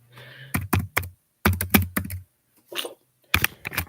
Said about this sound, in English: let me type this just to cover my ass